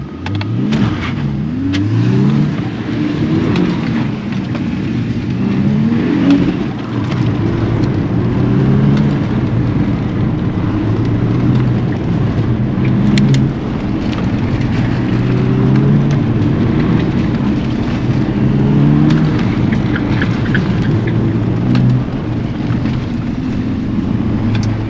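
A Volkswagen Golf R on an autocross course, its engine loud and steady through the whole run as it revs up and down through gear changes and turns, with no talk over it.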